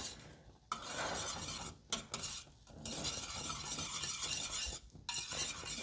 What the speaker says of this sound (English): we're gonna whisk thoroughly until it thickens into a nice custard